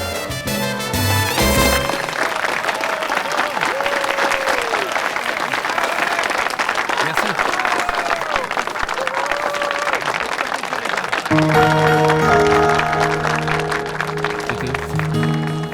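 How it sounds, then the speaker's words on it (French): An audience applauds steadily after a birthday song at a musical event, dense clapping that goes on for a long stretch, with music playing at the start and returning toward the end. "Bravo, applaudissons-les bien fort."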